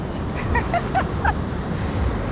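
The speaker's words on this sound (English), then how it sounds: "I'm just gonna sit here on the rock and enjoy this waves" Surf rolling onto rocks at a beach in El Tunco, El Salvador, a steady broad wash of breaking waves with a few faint whistly tones riding over it.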